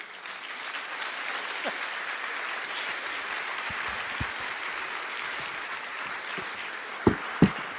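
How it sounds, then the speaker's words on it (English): Steady crowd applause fills a room at an awards presentation during a 2014 conference, sustained throughout with a couple of sharper thumps near the end. "would you please give a nice round of applause for Zack Wasserman"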